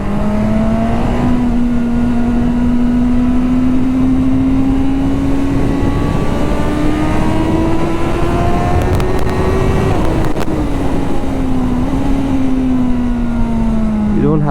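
A Suzuki Katana 1000cc motorcycle engine pulls hard under acceleration. A loud, sustained engine note climbs steadily in pitch, dips briefly at a gear change, and carries on strongly over road and wind noise.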